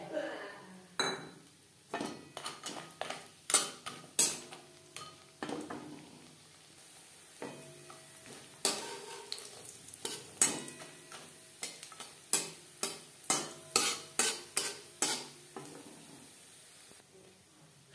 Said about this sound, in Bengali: রিফাইন্ড অয়েল গরম করে নেওয়ার পর দিয়ে দিলাম বড়ি।